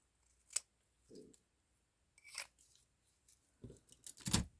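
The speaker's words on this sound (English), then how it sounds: "I'm going to cut it in half." Scissors snip through paper for a craft banner, a few brief, quiet, close cuts spaced apart, ending with a louder double snip as the sheet is cut in half.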